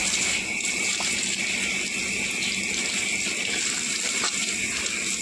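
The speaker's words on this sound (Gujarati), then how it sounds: "આપણે આગળના ભાગમાં પાણી ચાલુ કરી દીધું છે" Water gushes steadily from a pipe outdoors, a continuous loud hissing rush with no break, and no voices over it.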